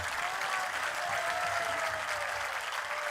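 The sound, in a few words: audience applause during a religious discourse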